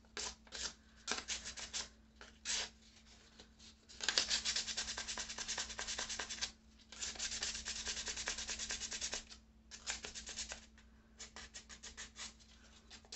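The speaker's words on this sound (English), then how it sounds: "the idea is, yes, to rub off some of this paint that we just put on here" Paint being rubbed off the grooves of a glass jar to give it an aged look, heard as close, steady scratchy rubbing strokes in bursts of varying length with brief pauses between them.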